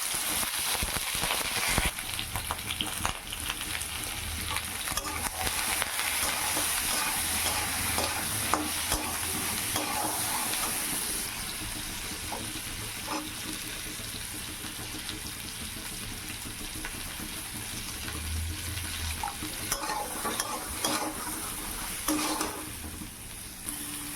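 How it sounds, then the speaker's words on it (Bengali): Pointed gourd (potol) frying in a pan as a home cook stirs it, a continuous close sizzle broken by scraping stirs and occasional wet spatters, with no voices. "তারপরে পটলগুলো দিয়ে দেই, ভাজা ভাজা হয়"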